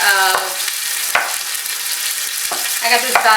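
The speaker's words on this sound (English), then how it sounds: "So while our roast just sears on that outside for about 3 or 4 minutes" A beef roast sears in a hot pan, producing a continuous close sizzle broken by a few sharp scraping or clattering stirs, fairly loud with no one speaking.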